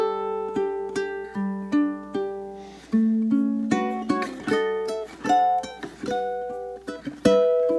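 Solo ukulele plucking the opening four bars of a song's verse, a gentle melody of distinct picked notes and chords with clear decays, close and moderately soft.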